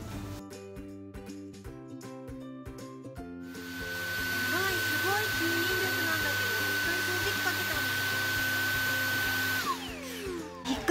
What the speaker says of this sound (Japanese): 掃除機かけたんだけど、やばい、この吸引力すごい。